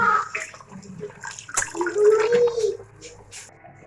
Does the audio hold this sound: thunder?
no